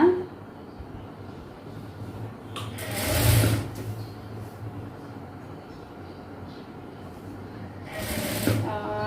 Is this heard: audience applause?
no